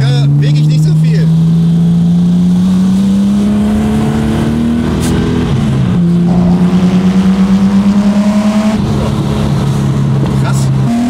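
A car engine revving hard through a titanium exhaust in third gear, a loud droning tone climbing and dropping between shifts from inside the cabin, with people talking over it.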